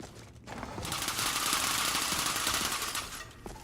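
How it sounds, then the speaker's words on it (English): Rapid machine gun fire in Skyrim blasts out as one dense, loud sustained burst of rattling shots lasting a few seconds, with a brief quieter moment before it starts and after it stops. "Rapid fire machine gun."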